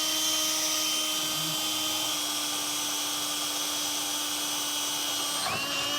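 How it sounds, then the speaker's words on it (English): A power drill with a half-inch bit drilling out a 2020 Chevrolet Silverado for a base plate whines steadily at a constant high pitch, its motor droning without pause before briefly shifting near the end. "this is where we're going to be drilling out using a 1/2 inch drill bit"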